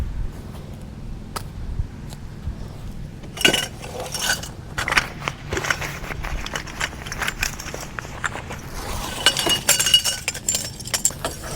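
Setting up a Coleman Pack-Away portable camp kitchen: scattered metallic clinks, rattles and clatters of poles and parts being handled, with occasional sharper knocks and shuffling movement, close by and irregular.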